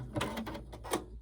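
Embroidery machine stitching a bunny tummy treat holder design, a quiet close run of rapid mechanical ticks and needle taps in uneven bursts, fading at the end.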